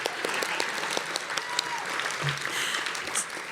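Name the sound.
audience clapping at an awards gala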